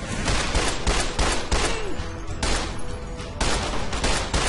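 Dense gunfire in Fallout New Vegas, a steady run of loud close shots in quick succession with short gaps between bursts, no voices.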